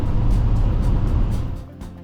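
A van with about 370,000 miles cruising along a highway toward Manitoulin Island, its steady low road and engine rumble filling the interior, easing slightly near the end.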